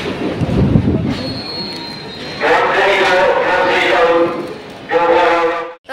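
Inside a nearly empty passenger train, the rolling rumble of the carriage fills the space, with metallic wheel squeals rising partway through. Some background voices may sit under the noise.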